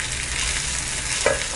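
Ginger garlic paste and tomato sizzle in a hot pan, a steady hissing fry with a brief clatter of stirring near the end, close and even throughout.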